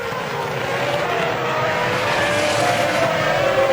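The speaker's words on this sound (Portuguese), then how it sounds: "Aí você vê o Montoya passando." A Formula 1 car at the 2006 Malaysian Grand Prix roars past, a loud sustained high-revving engine whine with no talk.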